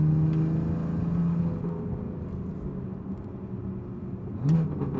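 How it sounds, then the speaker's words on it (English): A BMW F80 M3 running a Bootmod3 tune idles with a steady low exhaust rumble, ending in a single brief louder burble or pop near the end; no one speaks. "let's check out these Burbles."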